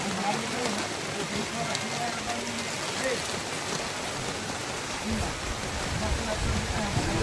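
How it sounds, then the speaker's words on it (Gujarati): Steady rain hisses and patters on surfaces throughout, a dense even wash of sound close by. "વરસાદ તો ચાલુ થઈ ગયો મિત્રો"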